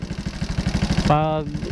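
A Raider J115Fi motorcycle with a cold engine idles with a rapid, uneven putter for about a second, then a voice briefly takes over close by.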